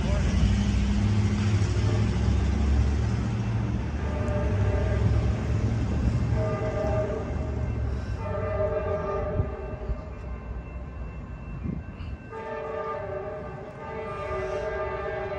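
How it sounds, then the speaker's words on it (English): Amtrak San Joaquin train 718 pulls into a station, its loud multi-tone horn sounding in several sustained blasts over a constant low rumble of the arriving train. "Amtrak San Joaquin bound train 718 is now pulling up here to the station right now."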